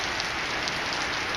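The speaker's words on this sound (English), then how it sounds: "It's freaking raining." Steady rain falls outdoors at a work site, a dense, constant hiss of drops on surfaces with no pauses or voices.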